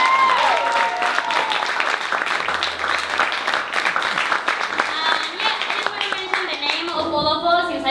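Audience applause after a stage adaptation of The Seagull, dense steady clapping close by throughout, with cheers and whoops rising near the end.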